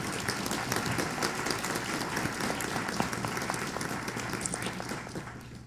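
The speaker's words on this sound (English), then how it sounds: "A round of applause, please, for our panelists." Audience members clap for panelists after a discussion on AI in higher education, a soft, distant, steady patter of applause throughout the room.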